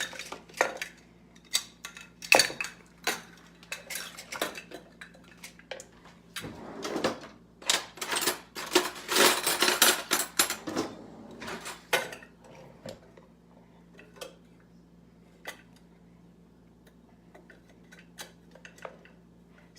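Brownie batter stirred in a bowl, a spoon clinking and scraping against the sides in irregular taps and bursts, busiest in the middle before thinning to sparse clicks.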